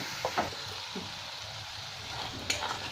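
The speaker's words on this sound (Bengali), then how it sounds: "ভালো করে মশলাটাকে কষে নেব" Spice masala with tomato fries in a pan for mixed dal tadka, a soft, steady sizzle with a few light stirring scrapes and a brief clink near the end.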